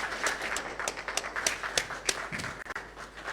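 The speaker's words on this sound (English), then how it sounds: "A huge round of applause, ladies and gentlemen, for His Excellency, the President of the Republic of Ghana." Audience applause for the President of Ghana, a crowd clapping with distinct sharp claps standing out from the steady patter, fairly close and sustained before briefly dipping near the end.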